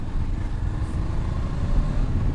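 A Honda CB 500 X motorcycle engine braking on the road, a low, steady drone with a faint, even rumble and no sharp revving or voices.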